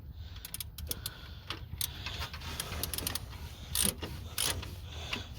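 A ratchet works the 12 mm timing belt tensioner bolt on a 2004–2010 Sienna engine, giving quiet irregular clicking and metallic ticks close up, with no speech.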